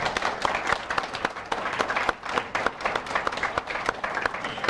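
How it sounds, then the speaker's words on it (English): Audience applause at a 1998 lecture event, a steady wash of many hands clapping for nearly five seconds, fairly close and continuous with no voices over it. "let's give them a big round of applause"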